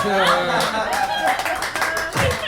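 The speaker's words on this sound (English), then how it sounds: "That's comics clapping, by the way." A small group of comedians claps at a comedy gig, with scattered, uneven hand claps mixed with chuckles and talking voices throughout the brief moment.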